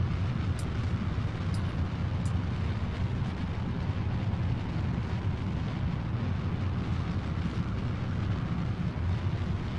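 A steady, loud, continuous roar of a rocket engine burn in the game Kerbal Space Program, holding one dense rumbling texture throughout with no pauses or talk.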